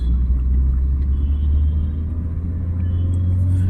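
A car engine drones in third gear while the car is driven, giving a loud, steady low rumble heard from inside the cabin with no break.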